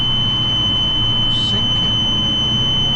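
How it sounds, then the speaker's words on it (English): A drilling rig lets out a steady high-pitched squeal as its fan speed drops, a continuous tone held over the constant low drone of the machine throughout. "that's squealing at me because the fan speeds come down"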